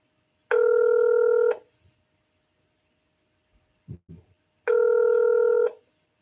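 Two long ringback tones on a telephone line while waiting to reach a court clerk, each lasting about a second with a steady multi-tone buzz, separated by a pause with a few faint clicks.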